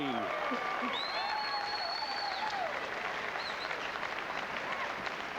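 Applause and excited cheering from a large crowd at a 1997 PBA professional bowling match at the Von Braun Center, a dense, sustained wash of clapping with a few whistles and shouts, heard under commentators talking.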